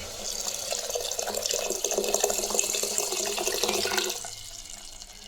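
Tap water runs steadily into a pressure cooker, rinsing it, splashing and swirling for several seconds before the flow cuts off.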